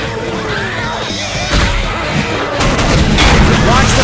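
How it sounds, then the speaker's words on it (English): Fireworks boom and crackle in a chaotic barrage in the Left 4 Dead 2 carnival level, loud and close, with repeated bursts and crashes layered under game noise. "Set off the fireworks!"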